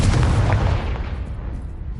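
Blasting Bombarda and Confringo spell explosions in Hogwarts Legacy, a dense rumbling burst of booms that fades into a lingering roar, fairly loud with no speech.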